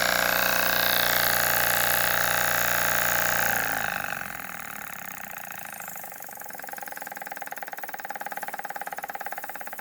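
Restored 1940 Jensen #25 toy steam engine running at full power with a vintage cord, no speed reducer: a loud, even mechanical whir that settles into a rapid, regular ticking chug.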